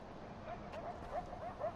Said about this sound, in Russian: Дикие собаки, беги!